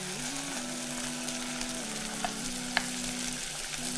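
Tomatoes sizzle and fry in a pan of cooking meat and vegetables for a ram tomato sauce, a steady close crackling hiss with a couple of faint clinks and no talk.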